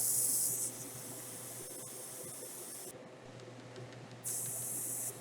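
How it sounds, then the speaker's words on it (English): An airbrush sprays gunmetal paint over a gloss black coat onto MG Gundam model kit parts, giving soft, steady hissing bursts with a brief pause between them and no voice. "spraying gunmetal paint on top of that"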